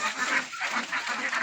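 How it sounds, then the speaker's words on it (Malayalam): A flock of farm ducks, reddish-brown and grey breeds bred from ducklings, quacks and honks continuously and fairly close, several birds overlapping with no talking. "എല്ലാ ടൈപ്പിലുള്ള താറാവുകളുണ്ട്."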